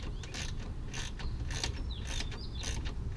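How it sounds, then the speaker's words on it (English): Ratchet wrench tightening radiator bolts on a 2001 Mercedes S430, close rhythmic clicking strokes repeating about five times, over a steady background hiss. "now I have to tighten all the bolt, but not too tight yet"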